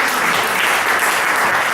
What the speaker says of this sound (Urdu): تالیاں بجا دیں ذرا۔